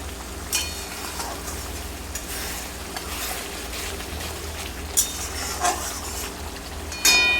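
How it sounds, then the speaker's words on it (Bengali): Spice paste of Kashmiri red chili powder masala sizzles and is stirred in hot oil in a pan for a potato, pea and paneer dish, giving a steady soft fry with occasional utensil clinks and scrapes close by. "মশলাটা আমি ভালো করে কষিয়ে নেব তেল ছাড়া অবধি।"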